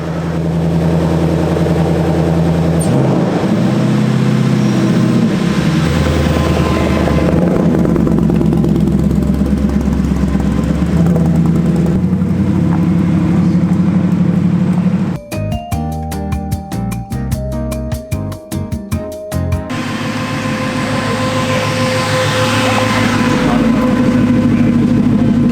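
A Shelby GT350 R sports car drives and accelerates, its engine a loud, continuous roar heard from close by, with a brief sharp burst of rapid mechanical pulsing midway before the steady drone resumes.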